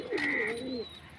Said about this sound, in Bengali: এই দেখো দেশি পায়রা এই পায়রাটা